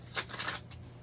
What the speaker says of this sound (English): One more little riffle shuffle.